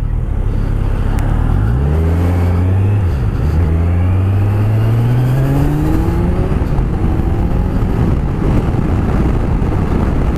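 A 2015 Kawasaki Z1000 SX motorcycle being ridden on the road, its engine loud and continuous, rising and falling in pitch as it accelerates and shifts, with steady wind rush throughout.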